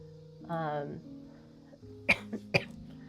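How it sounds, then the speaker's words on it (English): A few quiet coughs and throat noises close by, two sharp bursts near the end, over a faint steady hum. "I apologize for my coughing"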